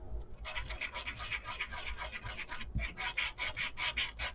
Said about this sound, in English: This is my disc sander, Tim Holtz, and just start sanding.